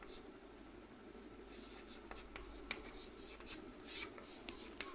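Short scratchy strokes of writing on a board during a maths lesson, faint and intermittent, with several quick marks and taps over a low room hum.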